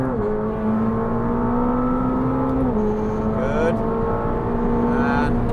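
McLaren 765LT accelerating hard on a race track, engine note rising steadily with quick upshifts marked by brief drops in pitch, loud and close from onboard, with faint voice coaching over it.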